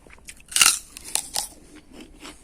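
Crisp crunching bites into a raw rhubarb stalk, one loud snap followed by several smaller crunches and chewing sounds, close up with no talking.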